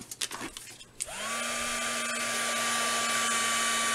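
A craft heat tool warming embossing powder on a Christmas card starts up after a few faint handling taps, then blows a steady, loud whirring hum that holds without a break to the end.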